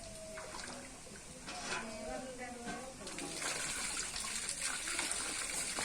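Hot water gushes steadily from a diesel-engine pump, a continuous splashing rush heard nearby with voices talking underneath.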